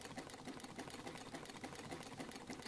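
Sewing machine stitching a portrait of a face at a busy event, running in a steady, fast mechanical whir with a rapid needle rhythm, close and continuous, no talk.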